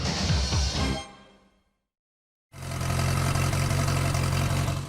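A car engine drones and rumbles under way, fades into near silence for about a second, then returns as a loud, steady low-pitched hum.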